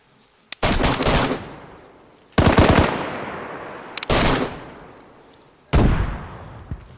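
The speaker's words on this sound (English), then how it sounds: "Shoot at them, shoot at them." Automatic gunfire in the DayZ video game on PS5, four loud bursts of rapid shots separated by short pauses, close and dominant.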